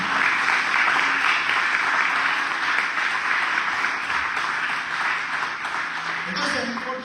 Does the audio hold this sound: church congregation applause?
yes